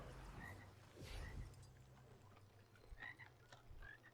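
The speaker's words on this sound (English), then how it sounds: "Oh, there's a frog." A frog croaks repeatedly in a video game, short chirpy croaks at irregular intervals over a low steady background hum, faint and alone.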